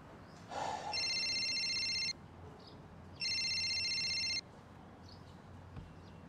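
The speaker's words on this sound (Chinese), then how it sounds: "你得接人电话呀。" A telephone rings in an indoor drama scene with two electronic ring bursts about a second apart, each lasting around a second, over a quiet room background.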